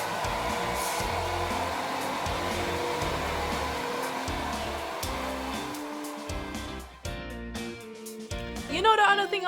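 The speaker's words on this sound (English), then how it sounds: "Alright, so I'm just taking out my blow dryer." A blow dryer drying natural hair runs as a steady, loud whooshing hum for most of the stretch, its tone shifting near the end as it is moved or switched off.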